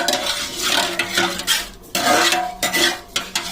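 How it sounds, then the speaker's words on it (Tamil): Sambar being stirred in a pan: close, repeated scraping and clinking of a utensil against metal in an uneven rhythm, with faint sizzling underneath. "கல்லையில் கிண்டி விடணும்"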